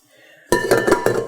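A KitchenAid Classic Plus 4.5-quart stand mixer bowl set onto the mixer base, a sharp metallic clunk followed by a few clinks and rattles as it seats, close and fairly loud.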